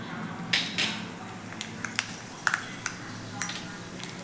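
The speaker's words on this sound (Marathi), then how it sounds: "त्यामध्ये आता आपल्याला मोहरी घालून घ्यायची आहे" Mustard seeds dropped into a small ladleful of hot oil in a pan: scattered sharp pops and tiny metallic pings, irregular and fairly close, over a low background hum.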